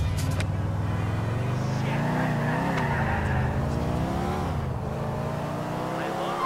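A car driven through city streets in GTA IV, its steady engine drone rising and falling as it accelerates, with occasional tyre noise, heard alone.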